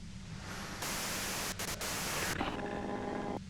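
Static hiss of a radio tuned to white noise in a detective role-playing video game, a steady broadband wash that shifts level and texture partway through, with brief dropouts and a faint tonal hum near the end.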